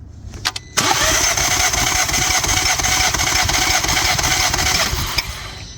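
An Audi A3 TFSI with a misfiring cylinder cranks over on the starter in a steady, loud, continuous churning drone for about five seconds, set apart from the brief clicks before it.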